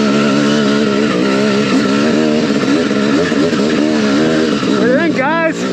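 Honda motorcycle ridden fast, a loud continuous engine whine with rising and falling harmonics as the rider shifts and accelerates, close to the microphone and dominating throughout, ending in a quick revving sweep.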